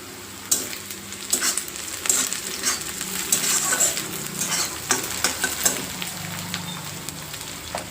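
Onion and curry leaves fry in hot oil while a spoon stirs through the pan, giving a steady crackling sizzle with repeated scraping strokes, close and clear, with no talking.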